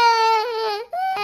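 A cartoon baby cries in a short, loud, wavering wail, a single high-pitched sob that breaks briefly before resuming, heard alone.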